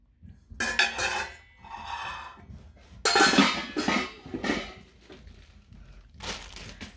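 Korkmaz Turkish-made steel cookware being handled, with pots and lids clanking and clinking in irregular close bursts, some sharp metallic hits and rattling pauses in between.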